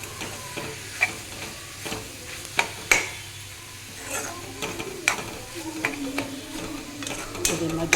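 Kusum leaf curry simmers and sizzles softly in a pan while being stirred, with intermittent spoon scrapes and clinks against the pan over a low frying hiss.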